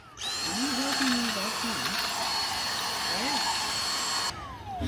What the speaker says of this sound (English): Oh, this is my vacuum. It's a DeWalt Dyson hybrid